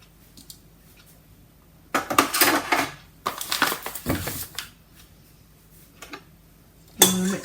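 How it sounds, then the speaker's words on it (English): Yeast and sugar being stirred into flour in a bowl for pizza dough, close scraping and clinking of a utensil against the bowl in a few short bursts with quiet gaps between. "Mix that around just a little bit just to kind of incorporate it in to all the flour."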